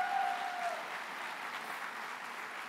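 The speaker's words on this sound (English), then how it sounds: "Let's give them a warm round of applause." Warm applause from an audience at a college district spring convocation, a continuous even wash of clapping at moderate level, with a brief tone early on and little voice.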